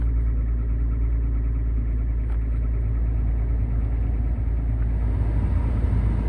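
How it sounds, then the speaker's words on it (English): A car's cabin blower motor, fitted with an old resistor, runs as a steady loud whooshing drone under a low rumble, close up and without talking. "Now to see if the blower works on all the speeds."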